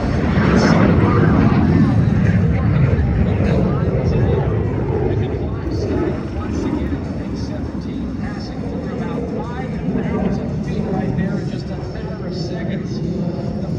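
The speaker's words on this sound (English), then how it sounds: "how in the world are we flying a Russian jet in American airspace?" Russian jet roaring past at an air show in Sacramento, California, a loud sustained engine rumble that swells early and then eases into a steady drone, with a voice talking over it.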